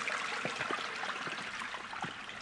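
Stream water runs beside old stone steps on Yeoseodo island, a steady, moderately close rushing and trickling wash with no pauses and no voices.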